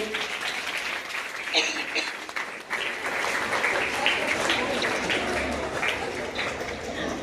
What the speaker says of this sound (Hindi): इस बच्चे के लिए जोरदार तालियां होनी चाहिए।